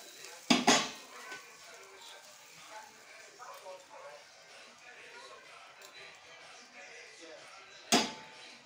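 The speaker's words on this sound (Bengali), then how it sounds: "মাছগুলো সব ঢেলে দিচ্ছি।" Pieces of fish are poured into a cooking pan, making a clattering metallic impact at the start and another near the end, with quieter kitchen handling and a voice speaking between them.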